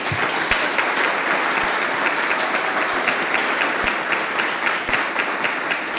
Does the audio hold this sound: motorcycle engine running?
no